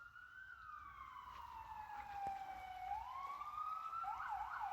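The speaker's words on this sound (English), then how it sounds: "There's a siren out here in the middle of the wilderness." A siren wails in the distance in the wilderness, sweeping slowly down and back up before breaking into a quicker yelping pattern, faint against a quiet outdoor background.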